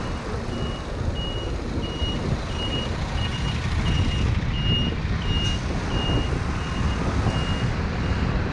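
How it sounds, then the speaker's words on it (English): A large vehicle, likely a tour bus, rumbles on a Taipei road with a low, steady engine drone and road noise. Evenly spaced reversing beeps repeat throughout, close and fairly loud, with no talking. "I notice a lot more of these tour buses on the roads these days."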